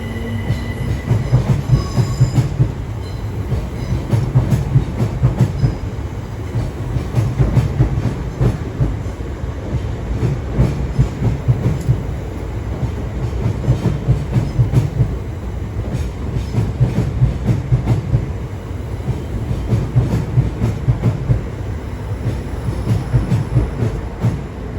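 A Southeastern train rolls into London Charing Cross, a steady loud rumble of wheels with rhythmic clacking over rail joints and brief squeals, continuing close by throughout.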